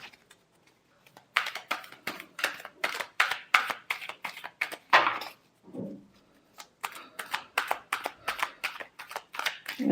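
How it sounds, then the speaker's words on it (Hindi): Tarot cards being shuffled up close in rapid, rhythmic riffling bursts of crisp slaps and flutters, with a brief pause midway before a second run of shuffling. "last shuffle"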